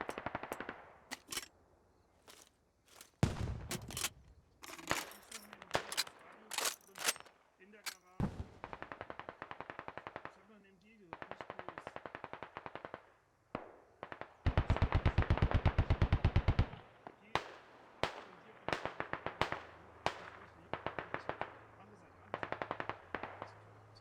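Automatic gunfire from the tactical shooter game Squad, with rapid bursts and single shots ringing out at varying distances between short pauses, some long sustained strings of fire, mixed with commentators talking over the action.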